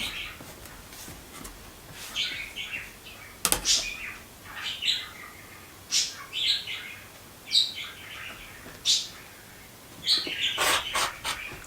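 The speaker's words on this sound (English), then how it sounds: "You can probably hear my bird in the background." Pet budgie chirping in the background of a quilting session, a series of short, bright tweets and chirp bursts arriving every second or so, fairly faint over a quiet room.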